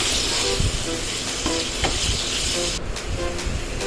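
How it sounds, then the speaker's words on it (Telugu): Boneless chicken fries in a pan while being turned over, making a continuous loud sizzle with brief scraping and stirring sounds throughout. "సో ఇప్పుడు ఈ బోన్లెస్ చికెన్ని అటు ఇటు తిప్పి ఫ్రై చేసుకోవాలి."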